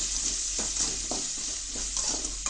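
Onions sauté with salt in a pan for hotel-style tomato chutney, giving a soft, steady sizzle broken by a few spoon-stirring scrapes, with no one speaking.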